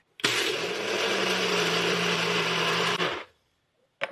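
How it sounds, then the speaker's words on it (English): A NutriBullet blender whirs loudly and steadily for about three seconds, a dense motor roar that cuts off abruptly, followed by near silence. "And then here's the NutriBullet. Watch out for the noise."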